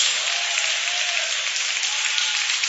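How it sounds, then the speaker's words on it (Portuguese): A church congregation claps together in a steady, even wash of applause that continues without a break, with no other sounds standing out. "Vamos melhorar essas palmas e misturá-las com glória a Deus."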